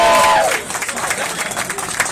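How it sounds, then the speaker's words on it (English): Light, polite applause from a crowd at an outdoor charity ride event in DC, a steady wash of clapping with a few cheers, following a voice that fades out at the start. "In my block, they call that polite applause"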